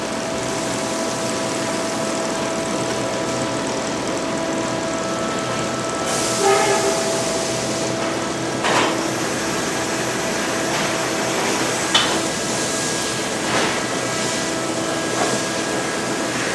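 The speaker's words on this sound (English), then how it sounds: "See another mold being dumped." Foundry sand mold dumped onto a shakeout machine: a loud, constant industrial roar and rattle, with a few heavier crashes and clanks rising out of it.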